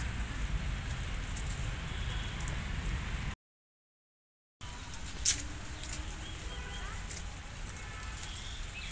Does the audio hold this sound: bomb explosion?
no